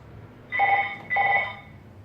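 A telephone rings in a TV studio during a live broadcast, two clear electronic bell bursts about half a second each with a short gap, loud and close over a quiet room.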